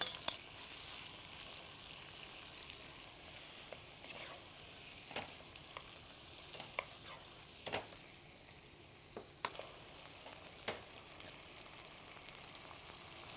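Vegetables sizzling and frying in a pot with well-browned onions for a vegetable biryani, a steady soft crackle with scattered stirring clinks and scrapes, no voices.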